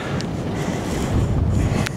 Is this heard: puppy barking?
no